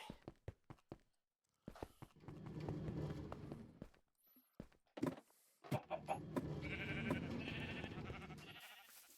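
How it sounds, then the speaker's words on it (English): Sheep bleat on a video game farm in short, wavering calls, interrupted by clicks, thumps and shuffling footstep-like noises. The sound comes in bursts separated by gaps and stays quiet overall. "Over here we have sheep farms."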